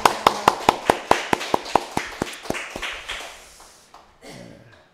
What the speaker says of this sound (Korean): 우리 다 같이 한번 박수로 환영하겠습니다.